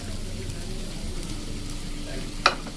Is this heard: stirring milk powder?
yes